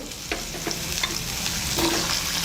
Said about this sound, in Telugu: మనం ముందుగా రెడీ చేసుకున్న గుమ్మడి ముక్కలు